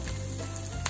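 Green chillies sautéing over a high gas flame make a continuous close frying sizzle with a low steady hum underneath, brief and without talk.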